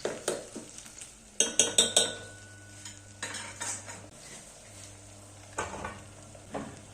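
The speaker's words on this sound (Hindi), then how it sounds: "जब हल्की सी प्याज भुन जाए तो टमाटर भी इसी में मिला लेते हैं और इसे भी मिक्स करके हल्का सा भून लेते हैं" Onion and tomato sautéing in a pan while being stirred, with a steady low sizzle, clinks and scrapes of a spoon on metal, a quick burst of clattering early on, and a faint hum underneath, without any talking.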